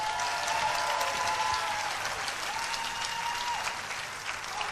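Steady, dense applause from a large crowd welcoming fencers to a medal match, sustained and loud throughout with faint voices mixed in.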